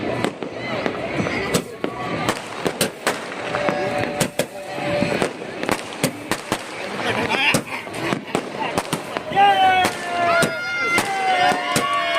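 Repeated sharp firecracker shot bursts pop at irregular intervals amid crackling during Uttarayan celebrations in Ahmedabad, with whistling rockets rising near the end and some voices in the background.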